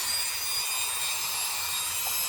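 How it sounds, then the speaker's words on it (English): A steady high-pitched drill whine, drilling a hole through cured resin, runs continuously and loudly from start to finish, with no speech. "And we're going to drill a hole."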